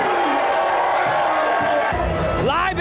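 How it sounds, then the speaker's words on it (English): Football fans roar and cheer at a Miami versus Florida Gators pregame event, a dense, loud crowd wash that continues throughout, with a brief whooping rise near the end. "The playmaker, Canes great Michael Irvin, got the crowd's blood pumping, ready for the showdown against the rival and favorite Florida Gators"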